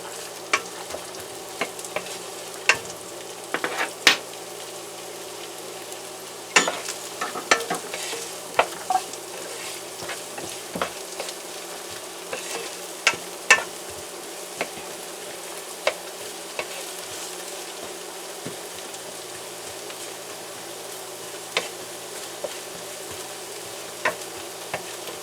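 Onions and browning garlic sauté in a pan for pancit miki guisado, giving a steady close sizzle broken by frequent scraping stirs and light utensil clicks, with no talking.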